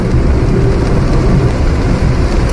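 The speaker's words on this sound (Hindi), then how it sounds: "लगातार बारिश हो रहा है, लगातार बारिश, कोई रुकावट नहीं है" Continuous heavy rain heard from inside a Tata Nano driving on a highway, a loud, dense, unbroken wash of rainfall mixed with low road and engine rumble, steady throughout with no pauses.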